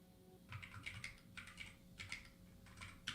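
Keys clacking on a computer keyboard in quick bursts of typing with short pauses between them, fairly quiet and close, with no voices.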